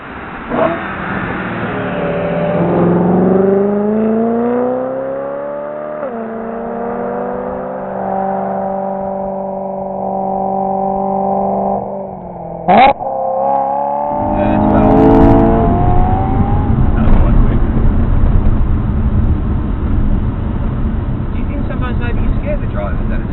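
BMW M3 engines rev against each other in a rev battle. Loud, sustained engine tones climb and hold, then drop away, before a second rise follows a brief sharp spike. Voices are also heard in places.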